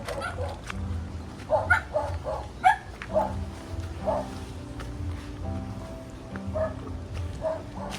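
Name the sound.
dog barking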